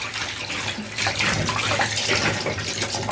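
Clean water runs steadily from a kitchen tap while chicken feet are washed under it for a Jamaican mango chicken foot dish, a continuous close splashing rush with no talk.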